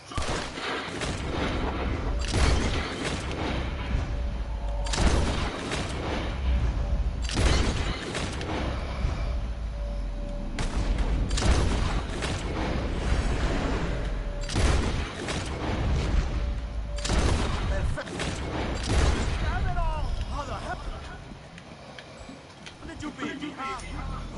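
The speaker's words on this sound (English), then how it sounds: "Whoever shoots one of these bottles wins" Gunshots fired at bottles in the video game Red Dead Redemption 2, a long series of sharp, loud reports spaced a second or two apart, each with a booming tail.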